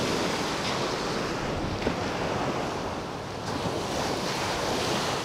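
Ocean surf rolls onto a Florida Gulf coast beach in a steady, unbroken wash, with wind buffeting the microphone throughout and no voices.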